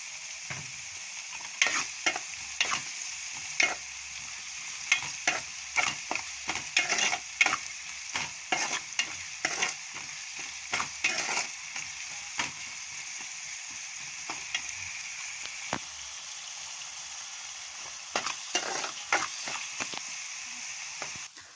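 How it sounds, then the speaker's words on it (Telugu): Onions fry lightly in a pan, a steady soft hiss broken by frequent sharp scrapes and taps of a spoon stirring, irregular and close. "ఆనియన్స్ ఫ్రై అయ్యాయండి లైట్గా"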